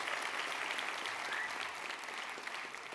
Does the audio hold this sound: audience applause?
yes